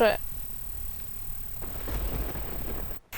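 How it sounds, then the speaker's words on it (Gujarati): Rain falls over Surat city as a steady broadband wash of drops with a low rumbling undertone, moderately loud, ending with a brief abrupt drop-out. "સુરત શહેરમાં બે દિવસના વિરામ બાદ ફરીથી વરસાદ છે તે વરસી રહ્યો છે"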